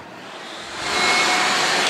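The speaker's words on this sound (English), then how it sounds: "a feather duster with a vacuum attachment that in turn attaches to your own vacuum cleaner" A vacuum cleaner runs with a feather duster attachment fitted to its hose, giving a steady, close whooshing roar that swells louder partway through and then holds.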